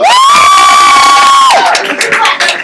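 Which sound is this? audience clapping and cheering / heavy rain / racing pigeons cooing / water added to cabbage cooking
audience clapping and cheering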